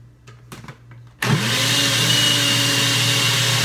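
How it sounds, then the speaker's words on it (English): Blender whirring through chipotle tinga sauce, kicking on abruptly after a second of faint clatter and then running as a loud, steady motor roar with a rising pitch that settles and holds. "I'm gonna add a little bit more salt and then finish blending it."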